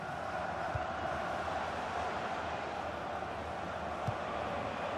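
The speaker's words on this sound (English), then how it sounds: "Crowd urging Northern Ireland forward." Steady crowd roar from a FIFA 17 Germany versus Northern Ireland football match, the fans urging Northern Ireland forward, holding a continuous even wash of noise for the whole stretch with a couple of brief thumps.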